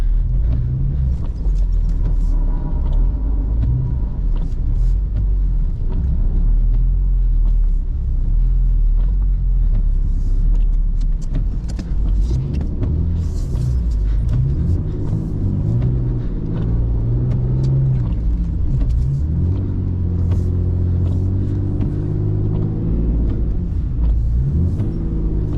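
A BMW E39 driving through a snowy blizzard rumbles steadily at close range, its engine droning and rising in pitch as it revs and accelerates, with a continuous low road roar throughout.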